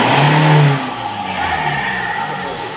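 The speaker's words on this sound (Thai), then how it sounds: "เมื่อเติมสารเข้าไปนะคะเราจะทำการฟรีเครื่องยนต์สักพักหนึ่งนะคะ" A diesel Nissan Navara pickup with heavy black smoke and sluggish running revs freely while stationary, a loud rising engine note at the start that then drops back to a steadier idle-like hum with no talk.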